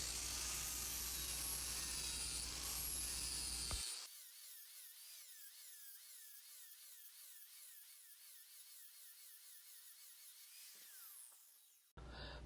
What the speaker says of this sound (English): I stop and change the grinding disc to a sanding disc.